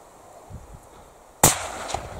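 Rifle fire at an Alaska brown bear on a midnight hunt: faint movement noises, then one loud, sudden report whose tail rolls away with a smaller echo bump a half second later.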